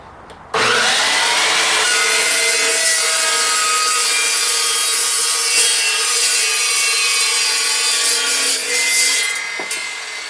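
An Evolution EV0 380 Raptor saw cuts through wood held against a backer piece. A sudden loud whine starts and holds steady for nearly ten seconds, then tapers as the cut finishes, with no talking.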